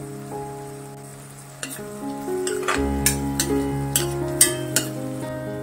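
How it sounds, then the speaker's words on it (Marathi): Bell pepper sizzles in oil in a pan, a steady fry joined partway by a low hum, with spoon scrapes and stirring clicks repeating through it, close and fairly loud. "सिमला मिरची चांगली फ्राय करून घ्यायची, त्याचा वास सुटला पाहिजे"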